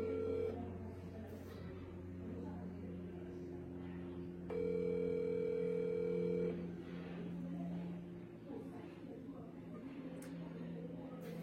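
A telephone line tone sounds during a call-back: one steady, fairly loud tone lasting about two seconds, surrounded by faint background noise.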